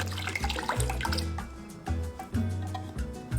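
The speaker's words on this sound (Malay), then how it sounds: "Masukkan susu cair, gula dan tambahkan sedikit air." Evaporated milk, sugar and a little water poured into a pan for a creamy corn pudding, a close, wet trickling and splashing in uneven bursts with small drips and clinks.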